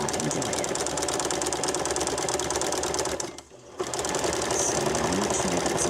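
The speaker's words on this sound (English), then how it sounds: "Because when I try to sew it," A sewing machine runs in a fast, steady mechanical chatter while straining to stitch jute rope, pausing briefly midway before starting again, close and continuous.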